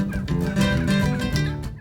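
A Rio Grande turkey, the flatland bird of the high plains, gobbling in a loud, close burst of rapid rattling calls lasting about two seconds, with no talking.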